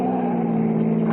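An old car speeding at about 98 miles an hour during a chase, a steady strained engine drone heard close and loud throughout, no talk.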